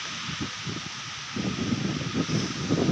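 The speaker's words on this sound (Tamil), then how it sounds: "காற்று கொஞ்சம் பலமாக இருக்குது" Strong gusts of outdoor wind rustle through leaves on a farm with trees, starting lighter and swelling into louder, rushing waves of rustling with nobody speaking.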